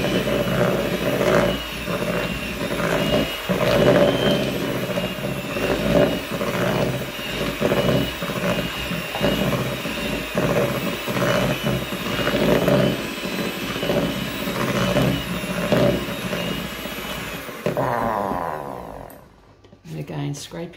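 An electric mixer beats margarine into cupcake icing with a continuous whirring motor drone. The beaters knock against the bowl at intervals, and the mixer then winds down and stops near the end.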